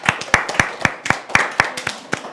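Students in a classroom clapping, a small group giving about a dozen loose, fairly even claps that thin out toward the end.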